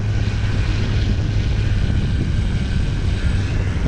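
An RC J3 Cub model plane with a 2.1 m wingspan drones on its maiden flight, giving a loud, steady engine and propeller hum with a low buzzing tone that holds constant throughout.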